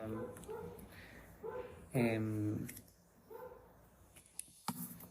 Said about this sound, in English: oh, sorry for the dog, barking dog.